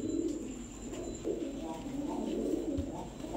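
A red-and-white Rasgolla pigeon pair coos in soft repeated low rolling phrases, close and steady across the whole stretch with faint background noise.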